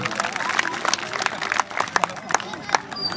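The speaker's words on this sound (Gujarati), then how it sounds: "એના માટે આપણે તાળીઓથી સન્માન કરીએ" A crowd at a 133rd birth anniversary celebration in Liliya claps in quick, uneven bursts, with a voice carrying over the applause throughout.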